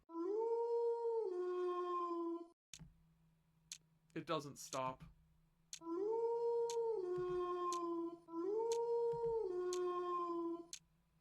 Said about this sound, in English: The beastly howling is beginning to give me a headache.